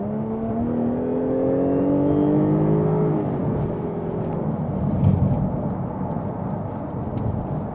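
A 2014 Jaguar F-Type 3.0 V6 S automatic accelerates hard onto the M6 motorway, engine note rising through the gears with a loud sustained roar, a brief shift dip and continued pull.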